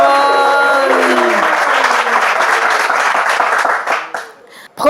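Audience applause at a French Bible quiz show, loud dense clapping sustained for about four seconds, with a voice briefly rising in its opening, then thinning out and fading before a final burst.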